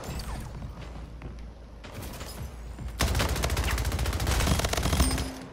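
Rapid gunfire in the video game Splitgate: a brief burst early on, then a sustained fast automatic stream of shots that runs steady and loud for the last few seconds, with no talking.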